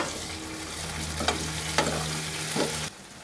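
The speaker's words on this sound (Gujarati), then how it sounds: "એક ટામેટું કાપેલું નાખવાનું।" Chopped tomato hits ginger-garlic masala in a hot pan and fries with a steady close sizzle, with a few stirring scrapes and a low hum underneath, then the sound drops away near the end.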